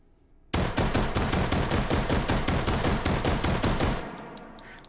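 A Gluger pistol fitted with a stock and muzzle brake fires in the H3VR video game, a rapid automatic burst of sharp, closely spaced shots lasting about three and a half seconds, loud and near, then cutting off into a brief fading tail.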